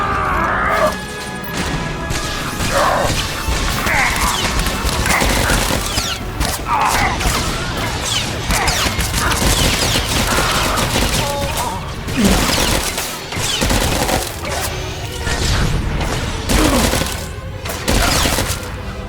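Soldiers' blaster gunfire in the video game Star Wars: The Old Republic, a dense busy barrage of shots, crashes and impacts at steady loudness throughout, with voices now and then among the battle noise.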